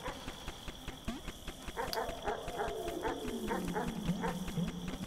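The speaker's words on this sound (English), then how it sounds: "Dog." A dog in the video game Animal Well gives repeated short barks over a steady looping game soundscape, with a gliding tone sweeping downward partway through.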